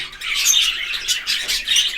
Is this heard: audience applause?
no